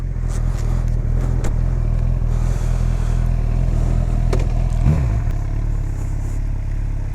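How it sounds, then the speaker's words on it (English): A Ferrari engine runs loud and close throughout, a steady deep drone with a brief rev swelling near the middle and light clatter on top. "I'm sure that's that Ferrari"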